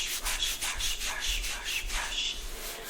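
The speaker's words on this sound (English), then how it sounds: "brushing and brushing, rubbing and brushing" A brush rubbed back and forth over the bare skin of a leg, a close, soft, rhythmic scratchy swishing with a stroke about every third of a second.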